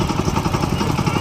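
A 7 HP power weeder engine runs in a rough, chugging rhythm, loud and close, with a clattering mechanical edge across a brief stretch.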